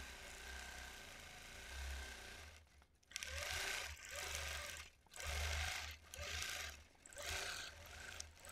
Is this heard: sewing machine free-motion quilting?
yes